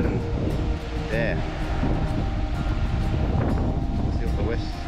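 Wind blows on the western Australian coast near Denmark, a steady broadband rush and buffeting against the microphone, with people talking over it.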